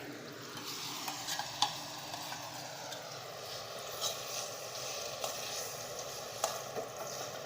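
Semolina stirred in hot ghee for rava laddu gives a soft, continuous sizzle with light scraping strokes of the spoon and occasional small clicks, all quiet and close.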